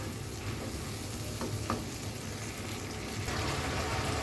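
Fish with spices frying in a pan, a steady close sizzle with faint stirring scrapes throughout and no talk.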